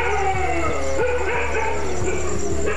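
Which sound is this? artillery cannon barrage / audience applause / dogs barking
dogs barking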